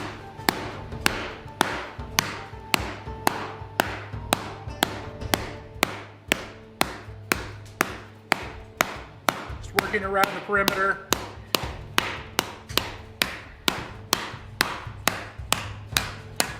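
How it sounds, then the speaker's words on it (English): A ball peen hammer strikes metal resting on a sandbag, doming a repoussé wolf head piece with a steady, even run of sharp, close taps that carries on for the whole stretch while someone speaks briefly over it. "So I grab the sandbag now and start getting a bit of a dome in there. Take my ball peen hammer and we're off."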